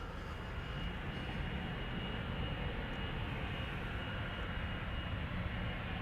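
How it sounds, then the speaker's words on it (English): A KLM Boeing 777-200ER airliner lining up on the runway at Schiphol, giving a steady broadband jet engine rumble and roar heard from a moderate distance throughout. "Now another heavy hitter is lining up behind us"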